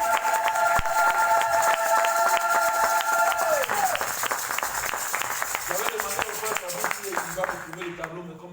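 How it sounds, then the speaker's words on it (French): Church congregation applauding and cheering during a Sunday service, a broad, steady wash of clapping and crowd voices mixed with sustained musical tones. "Est-ce que nous pouvons acclamer le Seigneur?"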